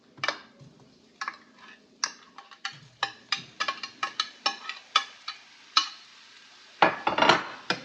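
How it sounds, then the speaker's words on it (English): Tteok rice cakes and carrots are stirred in a pot for nonspicy vegan Korean dukbokki, with a dozen or so irregular close clinks and scrapes of a utensil against the pot and a denser clatter near the end, no talking. "And give it a little stir."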